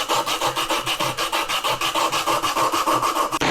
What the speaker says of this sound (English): Now I'm just going to get some sandpaper, cut them in strips, and kind of do the old shoe shine method.